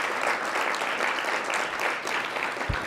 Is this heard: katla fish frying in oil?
no